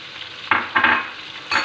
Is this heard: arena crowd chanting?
no